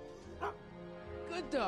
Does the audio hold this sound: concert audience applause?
no